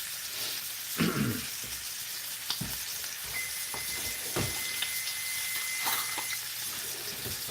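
Steak searing in a hot pan on the stove gives a steady, close sizzle and hiss of frying, with occasional clatters and clicks of the pan and utensils throughout.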